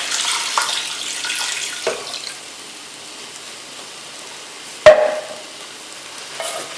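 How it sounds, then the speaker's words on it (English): Three cups of water poured into a pot of tomato spaghetti sauce with sausage and ground meat: a soft, steady splashing pour, close but quiet, with a couple of small knocks. "Let's add 3 cups of water."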